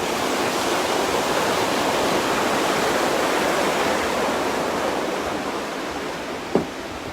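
Water rushing over the Cohuna creek weir, a loud, steady broadband roar close by that holds without a break, ending with a single brief knock.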